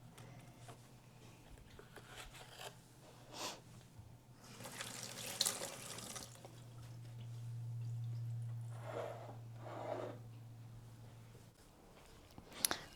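Water being poured into potted plants indoors, soft splashing and trickling in several separate bursts, faint against a low steady hum.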